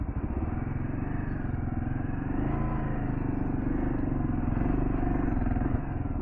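Motorcycle engine droning steadily and loud throughout on an off-road hill trail, a continuous rough, slightly wavering rumble with no pauses.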